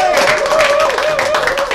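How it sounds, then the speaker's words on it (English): Audience clapping at a magic show fills a short burst with dense, steady applause, overlaid by a sustained musical tone throughout. "please give him the thunderous round of applause"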